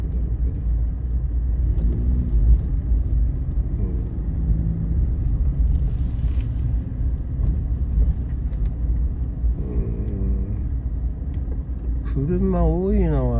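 Busy city street traffic in Hakodate, Japan, with cars stopped and passing: a continuous low road rumble and engine drone under a man's casual conversation throughout.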